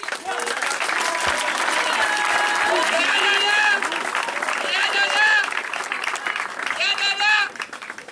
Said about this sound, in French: Vraiment, ça s'applaudit ça.